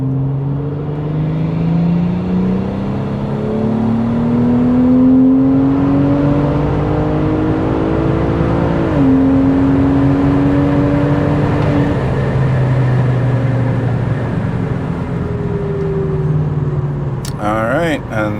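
A big-turbo BMW 340i accelerates hard through a tuning log pull. The engine note climbs steadily, dips at a shift, then climbs again, loud and close with a whirring undertone.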